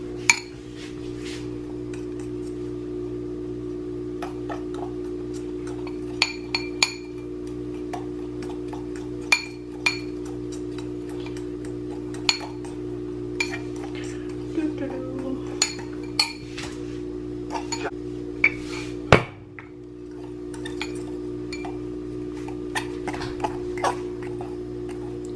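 Cinnamon roll cupcake ingredients being mixed in a bowl, with scattered light clinks and taps of utensil against the bowl over a steady low hum, no talk.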